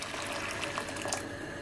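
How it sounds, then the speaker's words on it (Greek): Hot water pours steadily into a cooking pot in a home kitchen, a soft continuous trickle and splash that stays fairly quiet and even throughout, with no talking. "να βάλουμε λίγο καυτό νερό"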